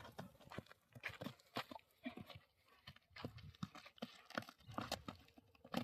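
A mare's hooves clip-clop in a quick irregular rhythm close by, the steps loud and clear, with bursts of rustling and scuffing between them and no talk.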